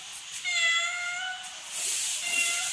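A domestic cat indoors gives a clear, drawn-out meow up close, followed by a fainter second cry amid a hissy background.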